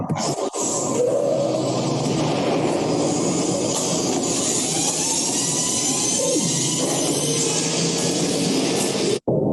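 Cartoon time machine lifting off, a loud, sustained rushing roar with hissing and rumbling layers that surges steadily for about nine seconds before cutting out abruptly.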